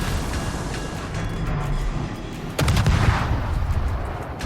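Naval gunfire in a warship battle video game, a low rumbling barrage with a sharp louder boom around the middle followed by rolling blasts and crackle, continuous and fairly loud.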